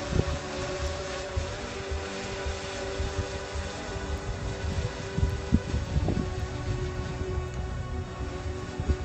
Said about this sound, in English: It's quite windy here this morning